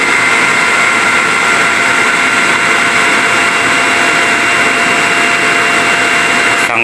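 A swimming pool filter pump motor runs in a control room, a loud, steady electric hum with a constant whir held close and unbroken for several seconds.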